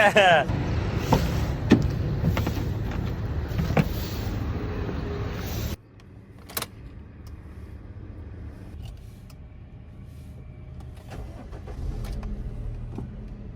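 Heavy city traffic in Karachi surrounds the listener, with an engine hum and passing cars and occasional clatter, louder at first and then more muffled as if heard from inside a vehicle; voices are heard faintly.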